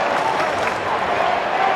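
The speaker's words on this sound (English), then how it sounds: "Crowd coming back into it." Stadium crowd at an AFL match between Sydney and West Coast roars and applauds in a broad, continuous wash of cheering, with commentators' voices faintly underneath.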